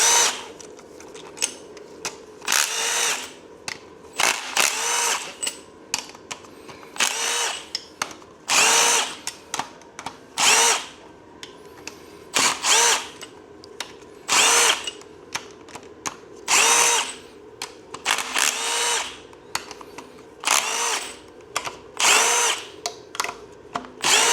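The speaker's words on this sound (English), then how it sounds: "Now that those are all loose, we'll zap them out." A power tool whirs in repeated short, loud bursts with brief pauses between them, spinning out loosened engine head bolts one after another up close.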